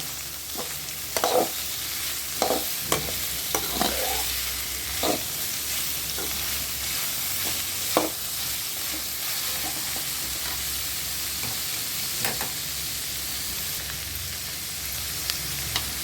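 Onion and banana-stem chutney ingredients sautéing in a pan, a continuous close sizzle with scattered sharp clicks and scrapes from stirring throughout.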